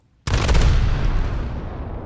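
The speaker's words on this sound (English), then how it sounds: "Let's see if we can actually detonate the Omaha." The warship Omaha blows up under shellfire in a naval battle game, a sudden loud blast that erupts and then rumbles on as a heavy, slowly fading roar.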